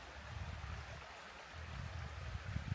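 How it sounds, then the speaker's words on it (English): A babbling brook in the Ouachita Mountains flows steadily at a campsite, a soft continuous wash of water with gentle low gurgles and no talk. "Listen to the babbling brook."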